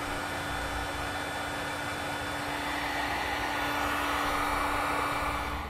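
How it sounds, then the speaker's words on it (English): A heat gun blows steadily close by as it shrinks butt connectors on trailer brake controller wiring in a 2016 Ford Transit T350. It makes a constant, even roar of hot air with a faint hum and no voices. "Now we'll use a heat gun to shrink down all of our butt connectors."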